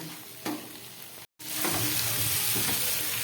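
Fried potato, pointed gourd and cauliflower being sautéed in spices in a pan, a loud continuous sizzle with scraping stirs, briefly cut off before the frying resumes even louder.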